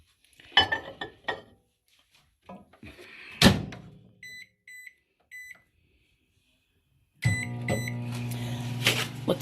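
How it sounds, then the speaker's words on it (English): A microwave oven heating a bowl of French onion soup to melt the cheese on top: first come handling clatters and a door clunk, then keypad beeps, and finally a steady close hum starts as the oven runs. "I'm going to pop this in the mic. For just a minute or so."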